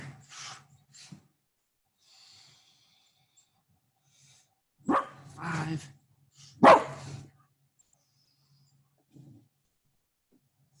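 A dog gives a few short barks and snorts at squirrels outdoors, scattered in sharp bursts with quiet gaps between them, while a person counts aloud during a workout.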